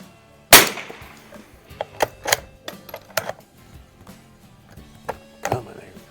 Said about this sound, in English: I'll shoot this one at the lower left-hand bow on that target